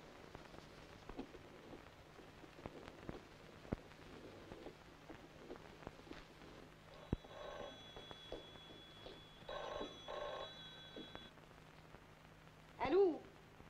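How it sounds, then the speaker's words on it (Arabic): A telephone rings in short electronic bursts partway through, fairly faint against a quiet room with soft rain-like ticking and a brief voice near the end. "تليفون"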